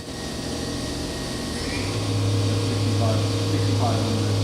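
Fadal 4-axis CNC vertical machining center spindle spinning up in high gear to about 3,000 RPM, a steady mechanical hum that rises and strengthens midway, with a voice talking over it.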